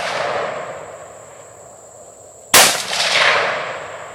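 A single sharp gunshot cracks out during target shooting, loud and close, followed by a lingering ringing tail over steady outdoor background noise.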